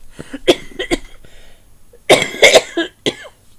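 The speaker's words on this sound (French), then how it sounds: "J'ai été malade, mais je tousse encore un peu." Several harsh coughs come in two bursts, a cluster of quick coughs, a pause, then a louder group of coughs close by.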